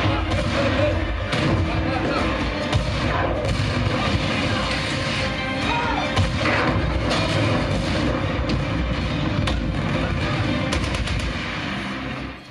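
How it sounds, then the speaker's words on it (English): Tank shells and anti-tank guns from the war film Fury play through a subwoofer, a dense barrage of heavy booms, thuds and gunfire with rumbling battle noise and some voices throughout, loud and continuous. "the sound of the tank shells and anti-tank guns were very tight and impactful and seemed to decay in a very natural way"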